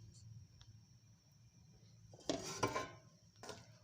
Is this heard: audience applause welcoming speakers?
no